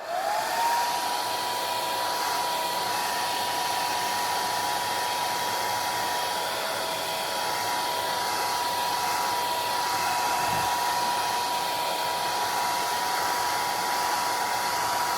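A hair dryer blows steadily on paint as it is being dried, a continuous close whirring hiss that runs unbroken from start to finish with no talk.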